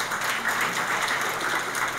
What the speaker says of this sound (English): Please join me in a round of applause for Catherine Schofield